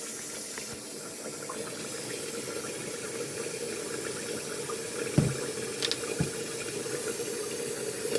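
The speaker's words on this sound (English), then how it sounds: "I'm going to run some warm water" Warm water runs steadily from a tap into a recycled detergent container, a constant hissing flow with a few brief bumps and splashes partway through, fairly close and alone.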